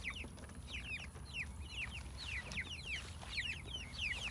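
Backyard egg-laying chickens let out after two weeks penned up, clucking and chirping steadily in a dense overlapping chorus over a low outdoor rumble, no voices.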